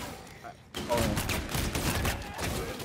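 Pistol fire in Infinite Warfare Zombies, a rapid run of game gunshots bursting in after a short quiet lead-in and continuing densely, with a player's voice mixed in.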